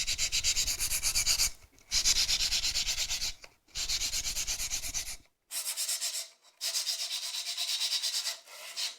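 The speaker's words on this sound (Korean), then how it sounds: "악기장이 둥글게 만 사포를 구멍에 넣고 문지른다." Rolled sandpaper rubs inside a hole in the bottom of a handmade Korean instrument's sound box, a harsh rasping scrape in repeated back-and-forth strokes with short pauses between bursts.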